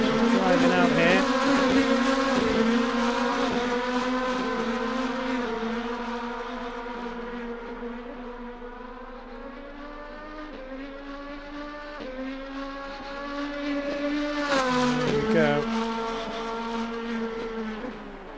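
Race cars in a sim racing game circle an Indy street track at Belle Isle, their engines a steady layered high whine that rises and falls as cars pass, with another swell near the end.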